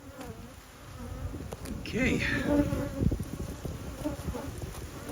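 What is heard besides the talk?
swarm of bees buzzing near a swarm trap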